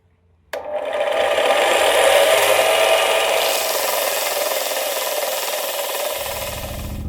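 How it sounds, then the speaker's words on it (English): Belt sander grinding down brake pads: the motor starts abruptly and then runs as a loud, steady abrasive whine and rasp that continues alone for several seconds at close range. "I'm just using the belt sander to grind them down a bit"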